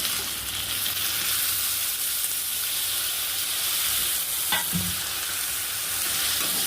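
Chopped tomatoes fry in a pan with a steady, loud sizzle and hiss, broken by a spatula scraping and stirring about two-thirds of the way through.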